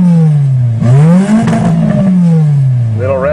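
A repaired Nissan 200SX engine revs loudly and close up, its pitch rising and then slowly falling, with a quick sharp blip partway through and mechanical clatter underneath.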